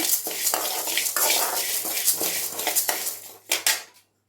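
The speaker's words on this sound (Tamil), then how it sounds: "பொன்னிறமாக ஆகிற வரைக்கும் நல்லா வறுத்துக்கலாம்" Coriander seeds, sesame, pepper and cumin dry-roast in a pan over medium flame, with a metal spoon scraping and clattering against the pan in a busy stirring rhythm that stops abruptly at the end.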